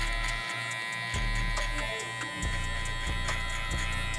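Electric clippers with a guard buzz close up while trimming a beard, the steady drone cutting out and restarting a few times as the lever is adjusted and the clippers move across the hair.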